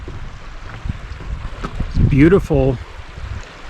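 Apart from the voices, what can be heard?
creek water flowing, Tarryall Creek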